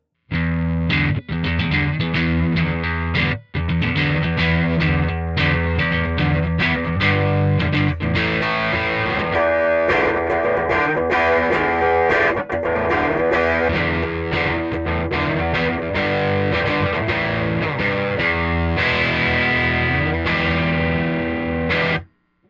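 A distorted electric guitar plays through an amp, captured by a close ribbon microphone and a distant omni condenser about seven feet back, loud and sustained with chords and notes ringing continuously, then a sudden cutoff at the end.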